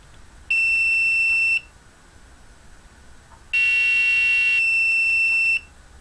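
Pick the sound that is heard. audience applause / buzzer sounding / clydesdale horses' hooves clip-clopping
buzzer sounding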